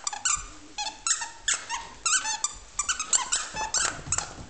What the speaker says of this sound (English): They like this squeaky toy.